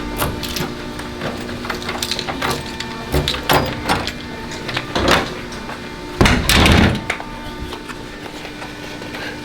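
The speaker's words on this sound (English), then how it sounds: "So he's coming to lock the door." A door is shut and locked, giving a series of sharp knocks, clunks and latch rattles spread across several seconds, with one louder scraping thud near the end, heard over a faint room hum.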